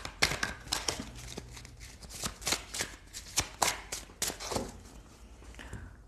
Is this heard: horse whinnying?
no